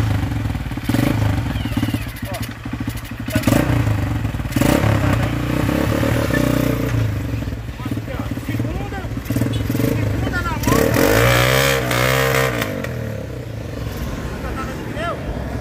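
A homemade mini truck powered by a 150cc motorcycle engine through a Chevette gearbox, driven in reverse, revs and clatters close by, with scraping, thumps and a voice talking over it.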